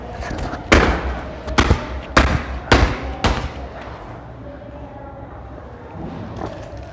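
Hard kicks on a blast stick toy land as five heavy thuds in quick succession, loud and close, then give way to quieter background noise.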